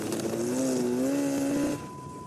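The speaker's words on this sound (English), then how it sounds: "you got the snowmobile to tow the bombardier out?" Snowmobile engine towing a Bombardier snow vehicle across ice, a steady close motor drone with a rising pitch that cuts off abruptly near the end, no talking.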